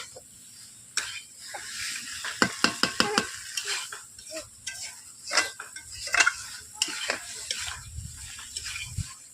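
Cauliflower and potato cook in a kadai, heard as a quiet simmering sizzle under repeated clanks and scrapes of a metal spatula stirring against the pan.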